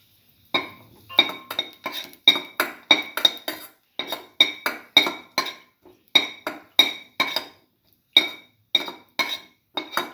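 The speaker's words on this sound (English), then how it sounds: "Put in the cashew." Cashew nuts dropped into a metal cooking pan, giving a long run of quick, close clinks and rattles in uneven bursts, without talk.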